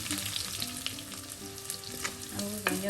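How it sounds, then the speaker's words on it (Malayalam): Mustard seeds and fenugreek spluttering in hot oil for a Kerala red snapper fish curry, a close, steady sizzle with scattered sharp pops and crackles and no talk. "കടുക് പൊട്ടി ഉലുവ മൂത്ത ശേഷം നമുക്ക് ഈ കുഞ്ഞുള്ളി"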